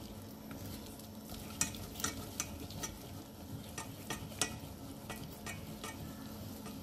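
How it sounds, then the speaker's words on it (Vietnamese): A spoon stirs sugar and water into a bean-style cake filling cooking in a pot, with irregular light taps and scrapes against the pot over a soft continuous bubbling sizzle, and no talking. "Các bạn khuấy đều để phần nhân này quyện với đường."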